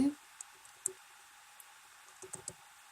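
Faint, scattered clicks of numbers being typed on a computer keyboard, a few single taps followed by a short quick burst over quiet room noise.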